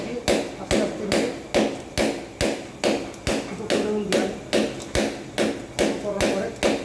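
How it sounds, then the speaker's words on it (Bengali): A screwdriver is tapped again and again to punch a hole in a broken electrical switch board, giving sharp, evenly spaced knocks about twice a second, close and loud. "চাইলে ড্রিল মেশিন ছাড়াও এইভাবে কাজ করা যেতে পারে। এরকমভাবে স্ক্রুড্রাইভার দিয়ে আস্তে আস্তে দিয়ে"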